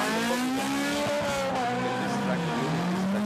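SL-H 1600cc race cars roar around a dusty supercross track, engine notes rising and falling steadily as they hold close together, loud and continuous with a commentator talking over the din.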